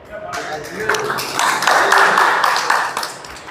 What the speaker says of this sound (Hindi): आप लोग ताली बजा करके इसका स्वागत करिए।